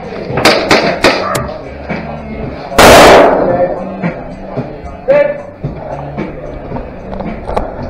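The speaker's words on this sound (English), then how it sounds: "you threw that grenade and I actually didn't realise it" A video-game grenade explodes in a loud broadband burst near the middle, among scattered sharp pops and clatter, with players' voices around it.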